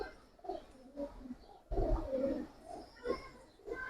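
Giribaz and coloured pigeons coo in low, rounded bursts at close range, interrupted by a few sharper rustles, with voices in the background.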